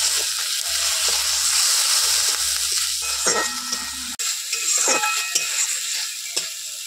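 A ground spice paste of salt, cumin and coriander fries in a pan for a pointed gourd kofta curry, sizzling loudly and steadily up close while a utensil stirs and scrapes through it in rhythmic strokes.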